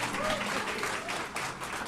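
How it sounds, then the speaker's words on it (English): Scattered audience clapping at a speech by First Lady Jill Biden at the Louisiana Cancer Research Center, brief and moderately faint, mixed with crowd murmur. "Half the crowd is clapping"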